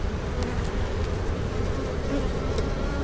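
A honeybee colony buzzes during a hive inspection, a steady, dense, close hum of many bees with no voices over it.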